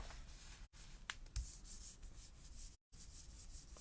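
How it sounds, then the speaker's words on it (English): A greeting card is rubbed by hand against an inked rubber stamp, giving soft, close scratchy rubbing strokes with two brief pauses. "Just give it a good rub, just don't move it."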